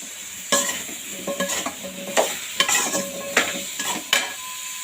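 Vegetables and spices sautéing in a pan for Chettinad sambar, a brisk sizzle broken by about eight scraping, clinking strokes of a spoon stirring against the pan, close and alone.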